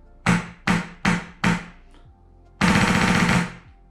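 Airsoft gun with a Gorilla FCU and trigger board upgrade fires four sharp separate bursts in quick succession, then after a short gap a longer sustained volley of BB shots, loud and close.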